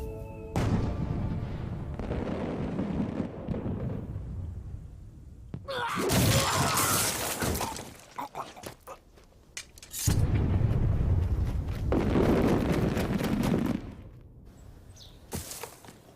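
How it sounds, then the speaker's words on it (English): Fireworks go off in the Afro Samurai video game as a string of sharp crackling bursts and booming pops in two loud clusters with calmer gaps between them, and no voices heard. "Those fireworks are my favorite kind."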